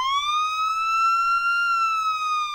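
A police car siren wails in a steady, sustained rising tone, loud and close with no talk over it, in a toy-like sound played for small children.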